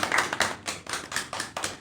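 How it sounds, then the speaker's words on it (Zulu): A small group of people clapping their hands in applause during a podcast discussion, fairly quiet and close, with irregular, overlapping claps and no talking. "Ngicanishe leni ihlombe nonke guys"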